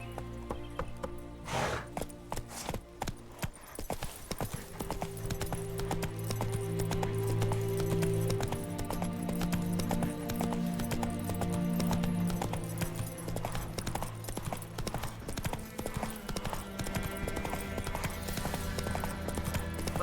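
Horse hooves gallop in The Witcher 3: Wild Hunt in a steady, rapid clip-clop that runs throughout, over sustained low tones and occasional creaks of tack.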